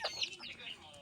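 A chicken clucking nearby in a short burst of a few quick, faint calls.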